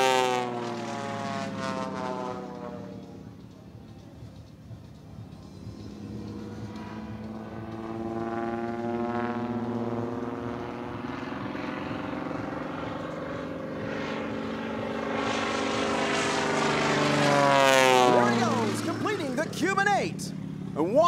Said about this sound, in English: The Demon One biplane is a one-of-a-kind aircraft.